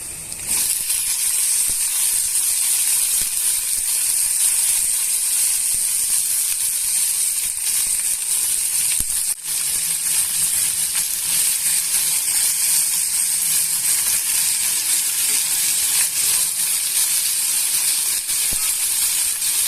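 Eggplant pieces frying in a pan on a medium stove, giving a steady, dense, close sizzle and hiss that runs unbroken throughout with only a brief dip midway.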